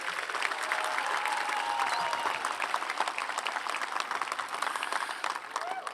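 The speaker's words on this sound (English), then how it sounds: "Can we give another round of applause for Mr. DeMarco and the Q&Q Win and Sabo?" A high school graduation audience claps in a long, even wash of applause, moderately distant and continuing for several seconds without speech over it.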